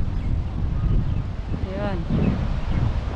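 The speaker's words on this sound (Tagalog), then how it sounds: "Mahangin ngayon dito sa park." Wind blowing across the microphone in a park beside the Museum of Islamic Art in Qatar, a gusty low rumble buffeting throughout while a person speaks briefly over it.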